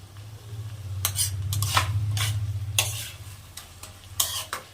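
Metal spatula stirring a vegetarian cabbage curry with peas in a pan: repeated scraping strokes and clinks, about eight sharp scrapes over a low steady sizzle and hum, close and fairly loud.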